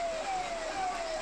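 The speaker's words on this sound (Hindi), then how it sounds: "एम्बुलेंस का सायरन आपको सुनाई दे रहा होगा।" An ambulance siren wails steadily in a drawn-out tone over a constant background hum of traffic, loud and close, with no voices.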